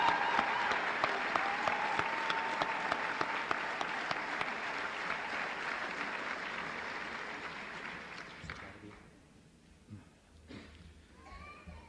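Audience applause at a university commencement ceremony, sustained steady clapping from a large crowd that fades out after about eight seconds, leaving a quieter hall with scattered sounds.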